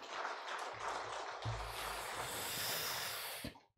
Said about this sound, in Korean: 축하 박수합니다